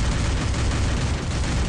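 Dense gunfire in the Free Fire battle royale game during an SMG-only match, a continuous loud barrage of shots and blasts filling the whole stretch.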